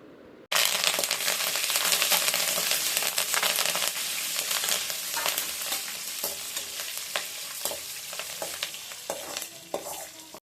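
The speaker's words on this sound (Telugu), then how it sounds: "సో ఇక్కడ పప్పులు అవన్నీ ఏగుతూ ఉన్నాయి కదా. వేగినాక నేను పచ్చిమిర్చి అవి కూడా వేసేస్తున్నాను అనమాట." Lentils and green chillies crackling in hot oil, a loud dense sizzle that starts abruptly and holds throughout, dotted with small pops and sharp clinks of a utensil stirring the pan.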